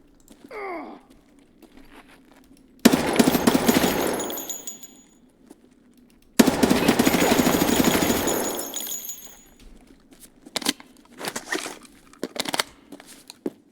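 Gunfire in Escape From Tarkov comes as two long, loud sustained bursts of automatic fire, each lasting a few seconds, followed by several quick scattered shots and cracks in an otherwise quiet setting.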